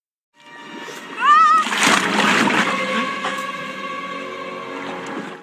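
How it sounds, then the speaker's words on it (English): A storybook splash of a boy falling into a chocolate river: a whistling rise, then a loud close splash and lingering watery slosh with ringing tones, produced as a sound effect. "then a splash, and into the river went Augustus Gloop"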